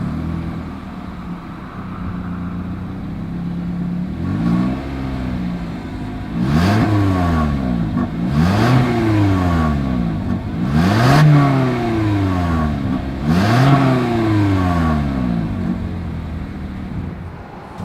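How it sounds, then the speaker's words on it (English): A car exhaust idles with a low rumble, then is revved sharply four or five times in a row, each rev rising and falling, loud and close. "As always, here is that exhaust clip."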